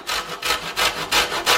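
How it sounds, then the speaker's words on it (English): Unwaxed lemon rind being grated for a vegan fruit cake, about seven rhythmic rasping strokes in a steady back-and-forth pattern, close and fairly loud, with no voices. "And then finally I'm going to grate the rind"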